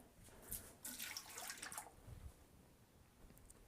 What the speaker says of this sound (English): let me pour this out real quick and hopefully not get it on any electronics on the way